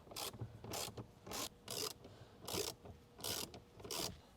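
Ratchet clicking in repeated short bursts, about seven of them, as two 7mm screws are backed out of a Ford F150 dash panel; a close, fairly quiet ratcheting sound with brief pauses between strokes.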